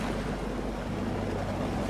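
Ocean waves washing against the shore in Fallout 4, a dense, steady surf roar with a windy rumble and no voices.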